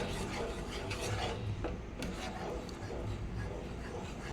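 Sugar syrup for semolina barfi is stirred in a pan on a low gas flame, with a soft, continuous scraping and rubbing of the spoon against the pan. It is quiet and steady throughout.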